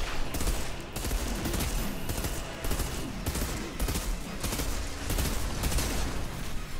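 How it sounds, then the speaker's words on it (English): Rapid gunfire in the sci-fi shooter Outriders, loud sustained bursts of automatic fire rattling on and off in dense volleys with short gaps between them. "God, I'm going through so many bullets."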